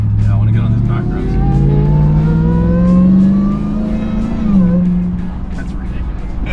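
A Demon Hemi-powered Jeep Gladiator's engine revs hard and close, its pitch climbing and falling in a long, loud, screaming run out on back roads.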